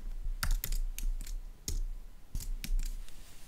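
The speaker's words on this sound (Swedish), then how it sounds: "När jag skrivit ett alternativ behöver jag bara trycka Enter på tangentbordet." Fingers type on a computer keyboard while filling in a Microsoft Forms entry, then press the Enter key. Close, crisp clicks come in uneven bursts with brief pauses, and no one talks.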